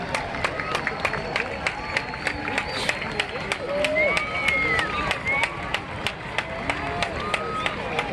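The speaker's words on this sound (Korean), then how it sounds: "여기서 사람들 박수 치는 겁니다" A crowd in Rio de Janeiro claps in a steady, even rhythm, with crowd voices and babble running underneath the beat the whole way through.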